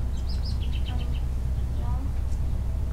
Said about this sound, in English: Oh, that was a bird.